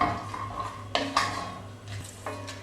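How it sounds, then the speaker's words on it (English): Metal spoon scraping and clinking in a pan as quinoa with courgette, lemon and halloumi is mixed, a few distinct knocks and scrapes over a low steady hum, fairly close and moderately quiet. "I'm going to squeeze half a lemon in there and mix it all together."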